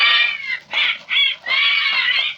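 A man imitates a bird call with his voice, giving several whistling, warbling phrases in close succession, loud and near, with short gaps between them.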